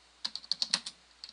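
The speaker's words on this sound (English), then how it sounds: "we're basically typing in these file names here" Quick, light keystrokes on a computer keyboard, about seven taps in an uneven burst and then two more after a short pause. The typing is faint and close.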